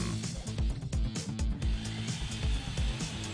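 A Bosch GSB 162-2 RE Professional impact drill does diamond dry drilling, giving a continuous high motor whine under a loud, pulsing rhythmic beat that lasts the whole time.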